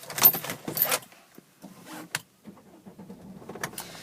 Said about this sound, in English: And if we start the car